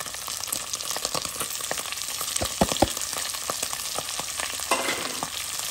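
Onions fry in a pan for a rougail hareng with a constant, even sizzle, marked by occasional sharp clicks and scrapes from stirring.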